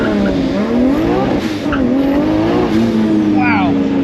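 Nissan Skyline GT-R launching hard from a standstill, engine note rising steadily with sharp tire squeal bursts; loud and close throughout, with no pause in the engine roar.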